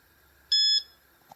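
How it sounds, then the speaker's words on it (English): A brewing timer sounds one loud, steady electronic beep of about a quarter second at the end of its countdown, with a faint click just after in an otherwise quiet room. "See what the timer says. Oh, gone red. 4 seconds."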